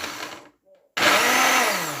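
A kitchen blender mixing onions, coriander, parsley and celery for Moroccan harira: a brief loud whir, a short pause, then a powerful, steady roaring blend that runs to the end, close and loud.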